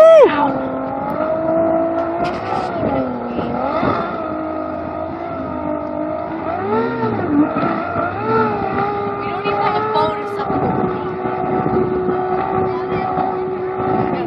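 A Hydrostream V-King boat powered by an Evinrude 225 H.O. E-Tec outboard roars past, its engine pitch rising and falling through the fly-by over a steady loud drone, with voices faintly in the background.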